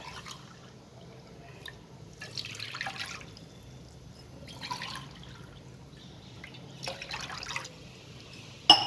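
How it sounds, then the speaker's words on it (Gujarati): Water is poured into a cooking pan from a glass in three separate short splashing bursts, with quiet pauses and faint drips in between. "3 ગ્લાસ ભરીને આપણે પાણી નાખીશું"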